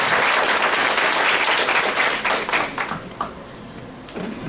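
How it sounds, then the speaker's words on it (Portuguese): An audience at an evening talk on Marxist party theory claps for the guests, loud close applause that is dense at first, then thins into scattered claps and fades out near the end. "gostaríamos de uma salva de palmas aos companheiros que estão conosco"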